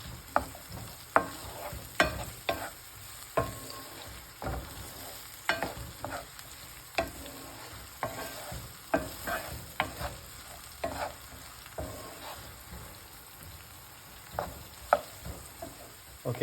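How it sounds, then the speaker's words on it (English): Onions frying gently in hot oil are stirred with a utensil, giving a soft steady sizzle broken by frequent scraping and tapping strokes against the pan, close and moderately quiet, with no voices. "you just want to stir them gently, often, again, to make sure that they don't burn"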